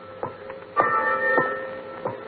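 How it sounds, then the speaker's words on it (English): A ship's fog warning bell rings in an old radio drama: four clear metallic strokes, roughly evenly spaced, each leaving a sustained ringing tone, heard alone with a narrow, vintage broadcast quality. "Why is that bell ringing, Lamont?"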